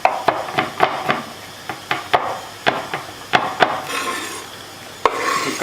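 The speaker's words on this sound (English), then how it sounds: "Do the same for the Brussels sprouts. Put some oil in there, and then just mix it up." Brussels sprouts tossed with oil in a bowl produce a run of sharp clacks and knocks, a dozen or so irregular hits from utensils against the bowl, close and fairly loud, ending with a softer rubbing shuffle.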